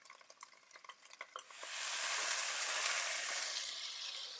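After a few light clinks and taps, a batch of steak pieces for a steak and mushroom pie drops into a hot pan and bursts into a loud, steady sizzle that holds on and then eases slightly.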